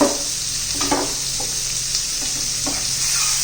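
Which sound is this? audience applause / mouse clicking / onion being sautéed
onion being sautéed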